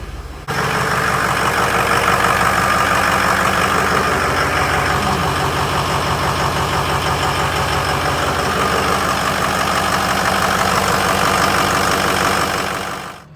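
A Ford King Ranch 6.0 diesel truck engine fires up after a high-pressure oil pump replacement and settles into a loud, steady idle, its rough low rumble running unbroken to the end.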